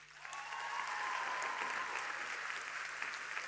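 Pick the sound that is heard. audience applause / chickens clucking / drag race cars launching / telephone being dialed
audience applause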